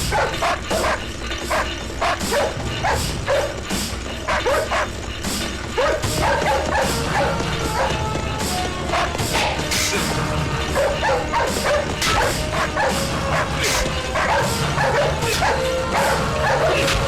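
Several dogs bark and yip repeatedly in an action-film scene, loud and continuous throughout, with dense overlapping barks over a busy, noisy background.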